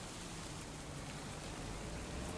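Steady rain in Farming Simulator 25, a dense, even hiss of falling water with a low rumble underneath, constant and unbroken with no voices.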